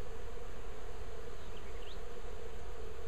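Honeybees buzzing around an open hive during a spring inspection, a steady dense drone close by that holds without pause, with a few individual bees zipping past.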